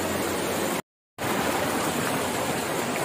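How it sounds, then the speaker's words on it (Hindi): Fast-flowing stream water near Dehradun rushes in a steady, loud roar during the rainy season, broken once by a brief moment of silence. "बहुत ज्यादा तेज पानी है,"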